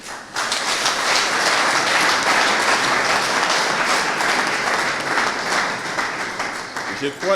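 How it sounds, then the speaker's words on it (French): A large audience at a ceremony breaks into sustained applause, dense steady clapping that holds at full strength for several seconds before thinning near the end. "je vous demande tous d'acclamer"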